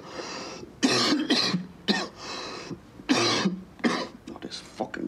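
Several harsh, throaty coughs burst out in uneven fits, close by, separated by short quiet gaps and a bit of breathing.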